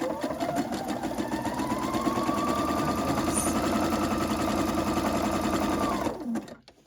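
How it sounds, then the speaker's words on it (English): A sewing machine stitches a zigzag seam in a steady, fast, whirring run of about six seconds, then slows and stops. "I'm going to change this to zigzag stitch."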